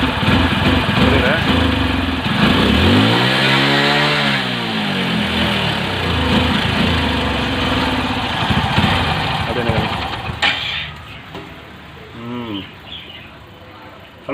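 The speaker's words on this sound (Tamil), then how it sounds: "இந்த வண்டி பயங்கரமாக அடைக்குது" A motorcycle engine with a starting problem runs roughly and chokes, its revs swelling and sagging unevenly before settling into a ragged idle. The engine is loud and near, with a voice talking over it.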